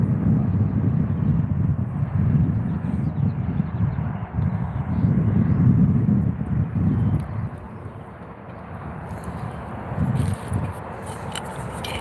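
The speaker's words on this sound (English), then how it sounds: "A little too much wind for me for the fly rod." Gusty wind buffets the microphone at a trout fishing spot beside a highway, a rumbling roar rising and falling over twelve seconds, with faint distant traffic behind it.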